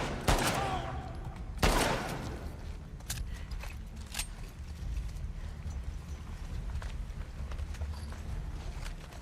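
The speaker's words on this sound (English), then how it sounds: "Two rifle shots" Two sharp rifle shots ring out about a second apart in the video game The Last of Us Part 2, followed by quieter game ambience with faint scattered clicks.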